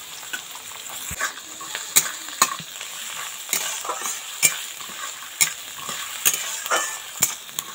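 Chopped onions sizzle in a pan with fried peanuts for an aloo patties base, a steady crackling fry broken by repeated sharp scrapes and clicks of a stirring spoon roughly every second, close and moderately loud with no talking.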